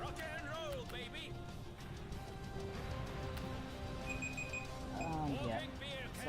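Timer alarm going off during a Divinity: Dragon Commander play session, a short repeating high electronic beep heard faintly under game sounds and ongoing talk.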